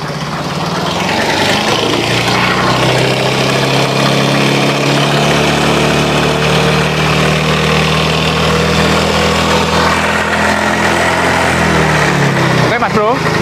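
A Yamaha X-Ride scooter brought in for service idles steadily and loudly up close for several seconds, with someone talking over the engine.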